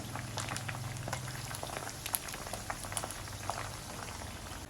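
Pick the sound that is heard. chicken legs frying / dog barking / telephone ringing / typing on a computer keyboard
chicken legs frying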